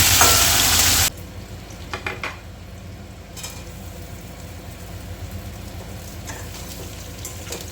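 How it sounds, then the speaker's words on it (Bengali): Stirring boiled taro in a frying pan, soon joined by potato and prawns: a loud burst of sizzling for the first second, then a quieter steady fry with occasional scraping strokes of the spoon against the pan. "এখানে দিয়ে দিচ্ছি দিয়ে একটু নাড়াচাড়া করে নেব"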